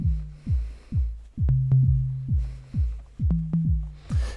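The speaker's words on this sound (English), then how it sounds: "now let's change the tom sound a bit" Drum machine tom hits repeat in a steady, quick rhythm, each with a falling pitched thump, with a few sharp clicks and a sustained low tone mixed in.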